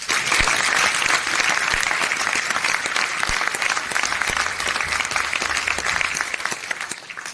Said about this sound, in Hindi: तो पहले तो अपने लिए जोरदार तालियां।